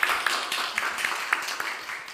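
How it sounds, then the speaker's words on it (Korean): Audience applause after a speaker's request at an artist talk in Gwangju, heard as a steady patter of many hands clapping at moderate distance for about two seconds, with no talk over it. "우리 그날 같이 한다는 약속한다는 의미에서 박수 한번 쳐주세요."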